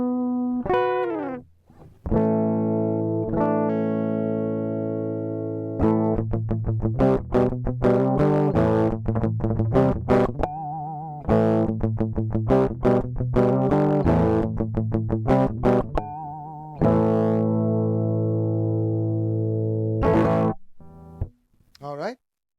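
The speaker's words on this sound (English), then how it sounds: "All right, so that's what the guitar sounds like." Electric guitar played through a YINKER audio interface plays sustained chords and fast picked runs with a bright, processed tone, loud and close, pausing briefly between phrases.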